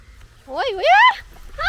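A goose at a friendly pond sanctuary gives loud, close honks, two drawn-out calls followed by a shorter one, over quiet outdoor background.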